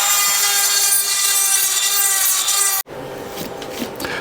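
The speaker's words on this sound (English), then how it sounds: "I've got a nice wee end for my Dremel, and I can buff it away" A Dremel rotary tool buffs a Yamaha FZ6 motorcycle part with a steady high-pitched whine, then cuts off abruptly, leaving rough scraping and rubbing noises.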